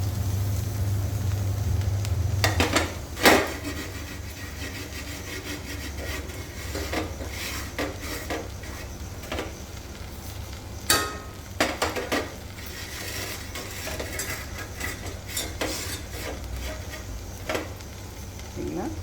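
Roasted rava (semolina) tipped into a pan and stirred for upma, giving a few sharp clanks and scrapes near the start, then scattered softer scraping and rubbing strokes over a low steady hum.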